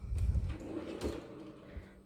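A drawer of a storage cabinet slides open with a brief, soft rumble and scrape, quiet and close by.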